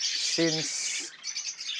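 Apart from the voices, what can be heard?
parakeets chirping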